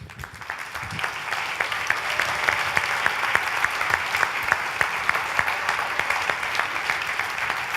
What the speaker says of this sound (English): Time for applause.